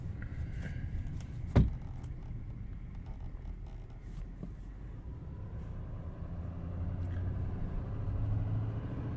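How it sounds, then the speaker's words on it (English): Chevy Silverado 2500 Duramax diesel truck driving, a steady low diesel rumble heard from inside the cab, with a brief thump early on and the drone swelling slightly toward the end. "I love that quintessential diesel sound"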